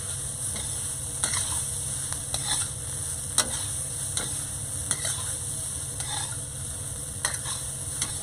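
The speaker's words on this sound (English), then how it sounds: "You're really just reheating this rice, putting a little toast on it." Leftover takeout fried rice is reheated in a wok, with a constant sizzle under repeated scraping strokes of a spatula every second or so, close and without speech.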